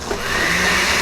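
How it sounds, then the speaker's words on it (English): A blender whirs steadily through a lime and vinegar sauce, a continuous close motor drone that holds level for about a second with no voices. "let's blend again and then start tasting"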